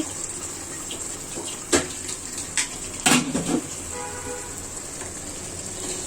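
A pot of bottle gourd and pointed gourd cooked in boiling dal is stirred, with a handful of metallic clinks and scrapes of a spoon against the pot over a steady background hiss.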